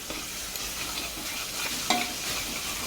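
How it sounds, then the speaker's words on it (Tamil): Yogurt and masala for chicken biryani are stirred and fried in a pot, with a continuous close sizzle and scraping stir strokes throughout. "இப்போது இதோட சேர்த்துட்டு நல்லா மசாலாவோட மிக்ஸ் பண்ணி விட்டுக்கலாம்."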